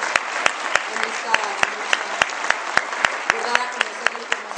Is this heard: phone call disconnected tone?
no